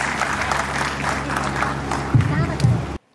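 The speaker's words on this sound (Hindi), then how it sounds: "जोरदार ताली बजाइए आप श्रीकांत श्री।" Applause from the audience at a Hindi Kavi Sammelan poetry gathering honouring martyrs' families, steady clapping that lasts about three seconds with crowd noise and a couple of louder bursts near the end before it cuts off.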